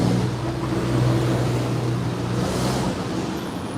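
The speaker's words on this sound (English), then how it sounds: "see, most of the traffic is heading into town" Steady road traffic on a street in St James, Trinidad in the early morning, a continuous broadband rumble of passing vehicles with a low engine drone, fairly close and without talk.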